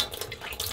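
Water gushing from newly connected plumbing in an off-grid RV, a brief steady splashing rush like an open tap, close and fairly loud, with no talking.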